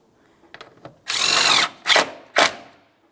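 A power tool with an 8mm socket snugs the battery hold-down mounting bolt on a 2015-2020 Ford F-150, giving one sustained half-second whir followed by two short bursts, close and loud in a quiet space.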